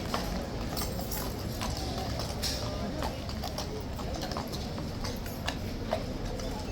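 Horse hooves clip-clopping on a hard surface at a walking pace, a string of sharp distinct knocks moderately close, with background chatter and ambient noise.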